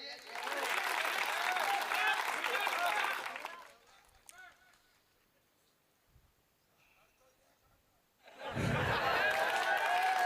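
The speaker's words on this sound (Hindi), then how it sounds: "जरा एक बार ताली वाली बजाइए।" At a Hindi comedy poetry gathering, an audience bursts into loud clapping, falls nearly silent for several seconds with a few faint sounds, then erupts into a second strong round of applause.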